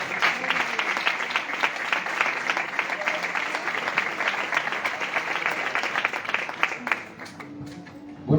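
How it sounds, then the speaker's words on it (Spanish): Warm, sustained applause fills a church gathering, many hands clapping together at a close, lively level for about seven seconds before fading and giving way to a voice. "Vamos a darle un aplauso fuerte"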